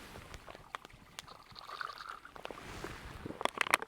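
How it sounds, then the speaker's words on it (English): Water squeezed from a soft water bag filter, faint close trickling and splashing with small plastic crinkles, growing louder toward the end, no talk. "then you can squeeze it out and get water out a lot quicker"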